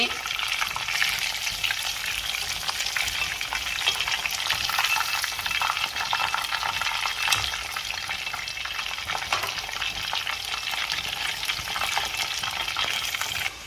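Chicken drumsticks fry uncovered in a pot for a Thai curry, a loud, steady crackling sizzle that holds constant with faint stirring scrapes underneath and no voices.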